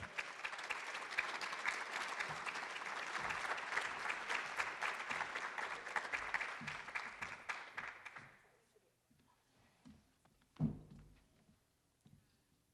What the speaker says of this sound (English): Thank you for clapping so wonderfully for the food we were eating tonight